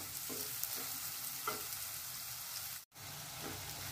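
Chopped onion sautés in an open pan while being stirred for a mixed-vegetable Kolhapuri curry, giving a constant crackling fry with soft scraping strokes every second or so, briefly cut off near the end.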